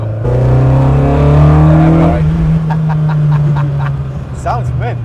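A Ford Anglia engine, a Cosworth or Pinto project car, running and revving as it warms up after a cold misfire, a loud close rumble that rises then settles, with people talking over it.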